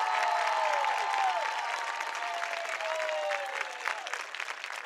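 An audience at a 2024 high school graduation ceremony applauds the graduating students, a steady wash of many hands clapping at moderate distance, fading slightly toward the end.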